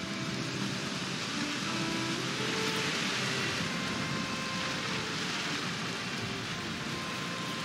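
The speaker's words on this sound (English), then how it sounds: "It is very rainy." Steady rain in the Valheim game world, a dense even hiss of falling drops with a faint low rumble underneath, continuous and unchanging with no speech.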